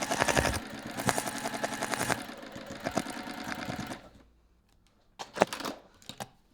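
A sewing machine runs a steady, close stitching stretch around the edge of a fabric bag, then stops abruptly. Silence follows, then a few knocks and rustles as the work is handled.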